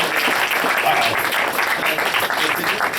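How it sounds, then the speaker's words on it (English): Audience applause fills a convention voice acting panel at Midwest Furfest 2015, a loud, steady wash of clapping from a large crowd that holds throughout, with faint voices mixed in. "Give another round of applause"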